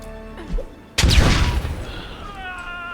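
A grenade blast in the Lamplighters League game goes off abruptly, loud and close, with a rumbling boom that decays over about a second. Game music hums quietly before and after the explosion.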